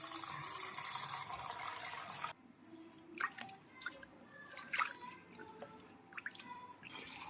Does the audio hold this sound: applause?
no